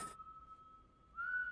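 A single sustained whistled note from the Cowboy Bebop anime, episode one, soft and clear, rising slightly in pitch near the end after a short burst of noise.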